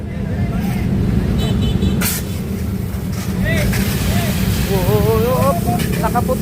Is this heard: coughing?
no